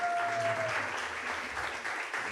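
Applause from a church congregation during a Spanish-language service, a steady wash of clapping that stays fairly even, with a low sustained tone beneath it and a brief high whine at the start.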